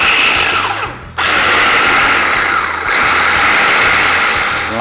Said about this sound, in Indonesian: untuk ayamnya tak chopper. Kalau bosku nggak punya food processor